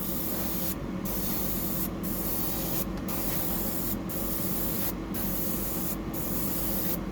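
An aerosol clear coat sprays onto a 175mm glide mullet fishing lure in a constant close hiss, broken by about six short pauses at a regular rhythm of roughly one per second.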